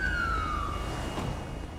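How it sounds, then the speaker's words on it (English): Police car siren in the video game GTA 5, a wailing tone sweeping downward and fading over a steady low rumble of traffic or engine noise, no talk. "And my siren's still going off."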